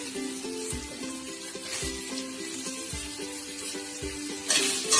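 Chopped onions tossed into chicken frying in a pan for capsicum chicken: steady low sizzle with rhythmic stirring scrapes and thumps roughly every second, a louder crackle at the end.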